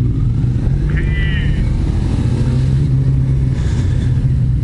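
Motorcycle engine droning steadily while riding on a touring trip, a Suzuki Gladius 400 or Kawasaki ZX-12R, heard from on board with constant wind roar and a brief high whine, while a rider talks.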